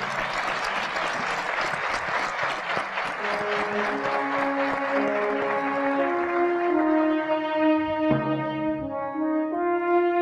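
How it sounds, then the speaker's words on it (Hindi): An audience at a live Pakistani morning TV show applauds steadily as a guest is invited onto the stage, with sustained clapping and faint crowd murmur. A musical tone swells in beneath the applause toward the end. "बहुत सारी तालियाँ सर के लिए।"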